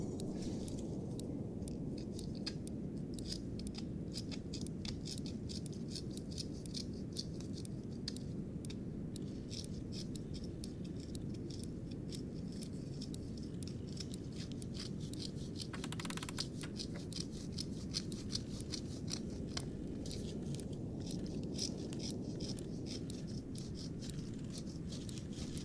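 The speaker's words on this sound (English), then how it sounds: "Now, I need to cut this part of the band-aid too." Scissors snip through a band-aid in a close, quiet ASMR healing roleplay, giving steady crisp little cuts and crinkles over soft background hiss, with no talking.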